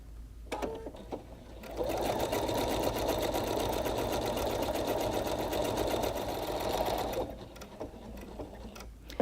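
A Pfaff Creative Performance sewing machine stitches out a decorative pattern, a steady close whirring drone with rapid needle clatter lasting several seconds, bracketed by faint clicks before and after.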